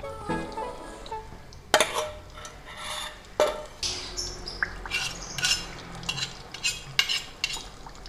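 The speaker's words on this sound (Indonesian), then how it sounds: "Kalau minyaknya sudah panas, masukkan sambalnya yang sudah dihaluskan tadi" Ground chili sambal hits hot oil in a wok and gets stirred, bringing sharp metallic clanks and scrapes of the utensil against the pan over a faint frying hiss, the strikes irregular and close.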